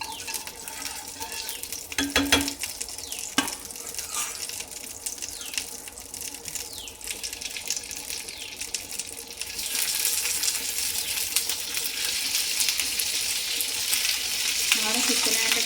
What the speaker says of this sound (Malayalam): ചെറിയൊരു നെയ്യിൽ ചിക്കൻ ഇങ്ങനെ വരട്ടിയൊക്കെ എടുക്കും